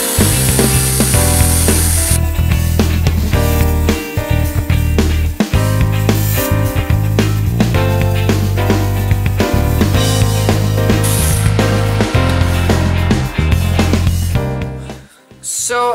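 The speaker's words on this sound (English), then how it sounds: "Now I'm going to start sanding this" Loud, continuous abrasive sanding against a wooden rolling pin spinning on a lathe at high speed, with a steady motor hum underneath and rough scraping texture throughout.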